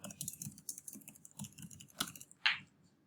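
Typing on a computer keyboard to enter a button name, a quiet run of irregular key taps at close range, ending in one sharper click.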